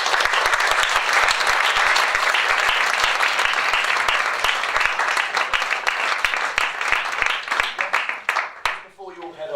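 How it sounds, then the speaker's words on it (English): A student politics society audience applauds Dave Nellist after his talk and Q&A, sustained dense clapping from a sizeable crowd with some sharp individual claps, thinning out and fading toward the end. "can we give Dave Nellist a big round of applause?"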